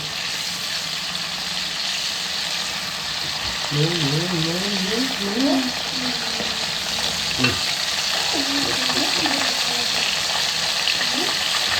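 Chicken being stirred and fried in a pan over a high flame, a steady broadband sizzle throughout with scraping stir strokes and brief voice-like tones in the middle.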